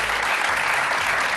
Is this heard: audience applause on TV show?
yes